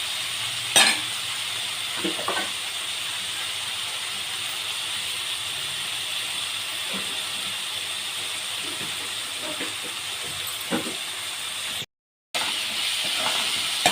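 Amaranth leaves and moong dal curry frying in a pan give off a steady, close hiss and sizzle with a few soft stirring scrapes, unbroken apart from one brief dropout near the end.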